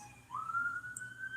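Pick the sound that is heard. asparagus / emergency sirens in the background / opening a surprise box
emergency sirens in the background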